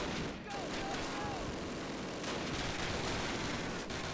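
MG42 machine gun fire in the 2003 Call of Duty game comes as steady, dense rattling bursts over a constant wash of battle noise, fairly loud throughout.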